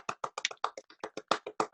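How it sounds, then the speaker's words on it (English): A small group clapping hands in a short round of applause, a dozen or so distinct crisp claps in a quick uneven rhythm, close and fairly quiet, with no talking. "A round of applause."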